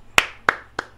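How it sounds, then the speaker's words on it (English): Three sharp, close hand claps at an even, unhurried pace, each standing alone against a quiet background during a podcast recording. "Clap, clap."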